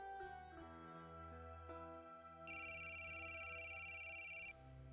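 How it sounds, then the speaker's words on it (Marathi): A phone ringtone chimes in a fast repeating electronic trill, preceded by soft melodic tones, fairly quiet and with no voices. "मेघना ग फोन घे."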